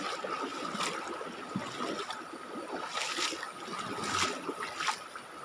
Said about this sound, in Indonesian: ini kita lagi menyeberangi sungai ini tuh